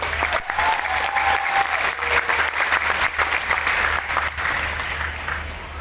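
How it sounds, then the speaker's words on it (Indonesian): A crowd at the 34th NU Muktamar in Lampung applauds Gus Ipang Wahid, a loud, dense, steady wave of clapping that carries on for several seconds before easing slightly near the end. "Tepuk tangan untuk Gus Ipang Wahid."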